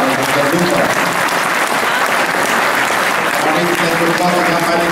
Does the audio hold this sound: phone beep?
no